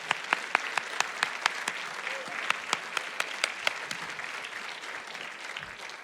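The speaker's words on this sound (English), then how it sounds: "continue to clap your hands for yourself being here tonight as well" Audience clapping at a congressional runoff debate night in a church, a sparser crowd with several sharp individual claps standing out near the front over a softer background of hands.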